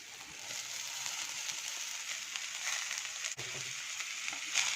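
Boiled cluster beans are tossed and stirred into a spice masala in a pan, giving a steady soft sizzle with light scraping and one sharp clack near the end, no voices.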